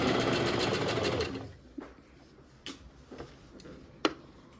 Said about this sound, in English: I'll sew and then back stitch and then continue sewing.